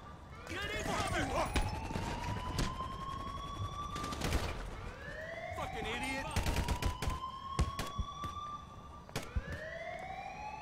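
Bursts of gunfire in the GTA 5 video game ring out irregularly over wailing police sirens that rise and fall throughout, sharp cracks scattered closely across the whole stretch.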